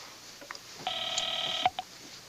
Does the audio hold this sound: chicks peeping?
no